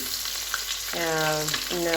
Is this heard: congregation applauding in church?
no